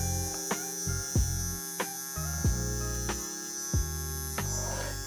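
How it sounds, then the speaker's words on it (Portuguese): Electric hair clipper running with a steady mains-like hum, cutting hair for a low fade in short top-to-bottom passes, with repeated brief bursts as the blade moves through; close and alone. "agora eu vou vir com a máquina de cima para baixo"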